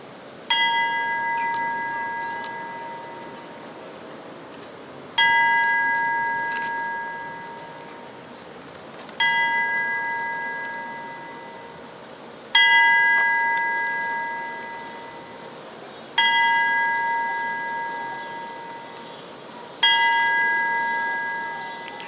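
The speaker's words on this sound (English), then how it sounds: "we today will ring the bell 13 times in honor of those who have made the ultimate sacrifice" A memorial bell at a dedication for law enforcement, firefighters and first responders, rung in slow single strokes about every three to four seconds, each bright clang ringing out and fading before the next, with no talk.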